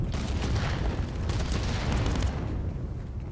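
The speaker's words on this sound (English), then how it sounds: "Frags going out. Frags coming back from the other side as well." Grenades detonate in the Contractors VR shooter as a dense, continuous roar of overlapping blasts and booms that stays loud throughout, then thins out near the end.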